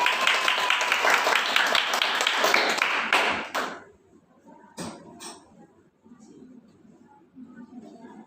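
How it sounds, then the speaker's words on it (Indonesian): A primary school class applauds, a dense burst of many hands clapping for about three seconds, then cutting off to quiet room noise and a few stray taps. "Benar sekali. Mari tepuk tangan."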